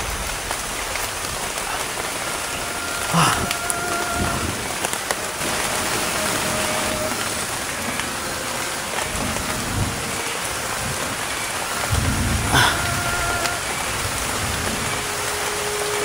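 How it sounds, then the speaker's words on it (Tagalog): Heavy rain pours steadily in a dense, loud hiss, with thunder rumbling low at a few points and one sharper crack near the end; no voices. "Sobrang lakas ng ulan to."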